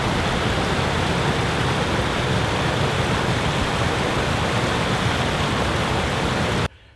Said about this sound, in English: This is our little middle dam. It's flooding too.